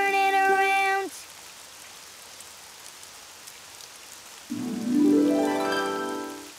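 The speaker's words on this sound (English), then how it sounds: "Oh, it's raining outside." Steady rain falls outside in a cartoon scene, a soft, even hiss that fills a quiet stretch between louder tonal passages at the start and end.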